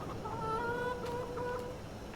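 Chickens inside a large chicken house in a farming video game give a short burst of soft clucks over a faint steady background hum.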